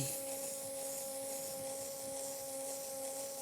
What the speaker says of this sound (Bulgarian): Миксер.